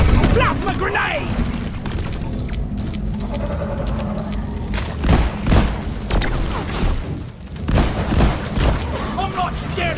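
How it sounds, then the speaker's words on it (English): Plasma grenade blast in the video game Deep Rock Galactic, a sharp boom amid rapid gunfire and crackling combat noise, with voices talking over the chaos. "Plasma grenade."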